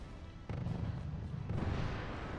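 Artillery fire in a real-time strategy game: a dense, rumbling barrage of distant booms and blasts that thickens partway through, sounding continuous and low rather than as separate shots.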